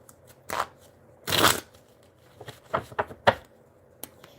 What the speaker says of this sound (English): I'm going to just shuffle a little longer